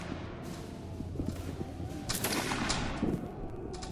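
Musket volley fire in the Holdfast video game during a Napoleonic Waterloo battle, with rolling distant gunshots and a rumbling fusillade swelling midway over a constant battlefield din.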